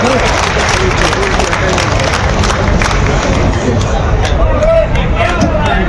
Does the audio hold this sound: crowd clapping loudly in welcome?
yes